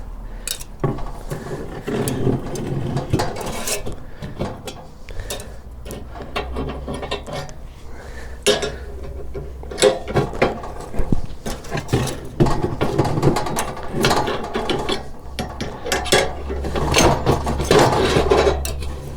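Scraping and clanking as a cast iron grill grate on a Broil King Keg is wiped down, with repeated metallic rubs, taps and rattles coming close and unevenly, no talk.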